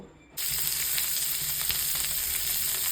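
After a brief quiet moment, dried salted fish hits hot oil in a wok and sets off a loud, steady sizzle that continues without pause.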